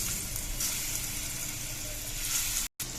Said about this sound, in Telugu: మనం రొయ్యలు వేయించుకుందాం.